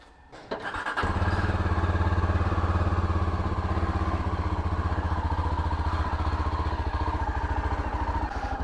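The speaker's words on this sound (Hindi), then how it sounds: "परमिंदर पीछे अपनी स्कूटी स्टार्ट कर रही है, अपनी बाइक स्टार्ट है बिल्कुल" A motorcycle engine fires up and settles into a steady, loud, close idle with a rhythmic thumping pulse, while a scooter starts somewhere behind it.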